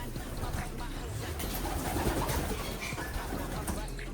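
Racing pigeons coo softly in a loft with a trapdoor, low and murmuring over a steady background hum, the calls fairly faint and continuous.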